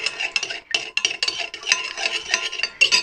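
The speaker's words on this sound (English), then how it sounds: "Just giving that a good stir so that, obviously oil and water will never mix" A spoon stirs calendula-infused olive oil and water in a bowl, brisk scraping clinks in quick irregular strokes, close and clear with no voices.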